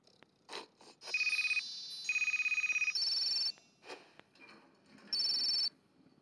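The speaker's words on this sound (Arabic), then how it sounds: "مين اللي بيرن بقى ده" Mobile phone rings in repeated melodic bursts, loud and close, with short gaps and faint other sounds between the tones.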